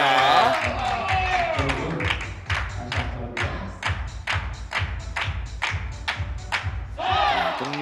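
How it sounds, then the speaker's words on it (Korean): Teammates at a PBA team league billiards match give a burst of rapid, steady clapping nearby, a short round of supportive applause under a commentator's voice. "동료들의 응원 박수를 받습니다"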